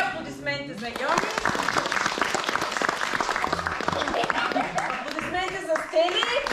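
Sustained clapping from a crowd at a children's theatre production, a voice calling out briefly at the start and again near the end over the steady applause.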